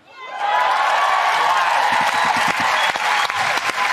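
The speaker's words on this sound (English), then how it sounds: "That's the applause for just for being alive" An audience bursts into loud, sustained applause mixed with cheers and whoops, swelling quickly and holding steady.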